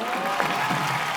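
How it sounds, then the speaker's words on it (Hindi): A studio audience at a comedy show claps in a steady, moderately loud wash, with a faint voice or cheer rising briefly over the clapping. "दर्शन रावल के लिए जोरदार तालियां हो जाए।"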